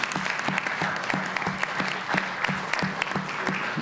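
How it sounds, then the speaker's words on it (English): Steady applause from an audience at an International Baccalaureate awards ceremony, a dense even patter of many hands clapping at moderate distance with a faint voice or two underneath. "would you all give your parents a round of applause for all they've done to help support you"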